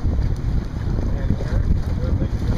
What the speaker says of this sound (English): out for an afternoon sail